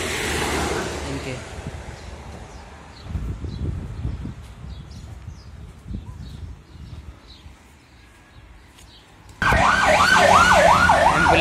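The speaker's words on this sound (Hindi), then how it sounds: "एम्बुलेंस जा रही है" An ambulance races along a road near hillside village homes in Portugal, its siren first distant and masked by traffic noise, then suddenly loud and close with a rapid wailing sweep.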